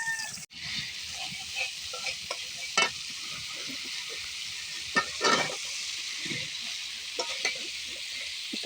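Pangas fish with cauliflower and beans frying in a pan for curry, a constant sizzling hiss broken by several sharp scrapes and clanks of a spatula stirring, close and without speech.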